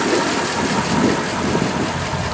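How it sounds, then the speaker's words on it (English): A 1937 Ford Coupe with a flathead engine idles steadily and smoothly at close range, a continuous low mechanical rumble with no talk over it. "push the button and this thing fires right up. Runs beautiful, nice and smooth."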